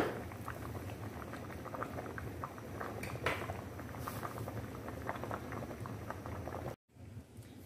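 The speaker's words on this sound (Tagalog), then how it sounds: "So hindi ko na siya masyadong pinagpakuluan pa para hindi siya lagkit." Spaghetti boiling in a pot of water, a steady soft bubbling and patter at low level that cuts out abruptly near the end, followed by a quieter hiss.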